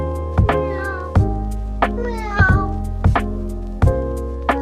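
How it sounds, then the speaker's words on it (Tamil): Small cat meowing in the rain, several short plaintive meows spaced about a second apart, close and clear over a steady low hum. "ஒரு சிறிய பூனை மழையில் சிக்கிக் கொண்டது."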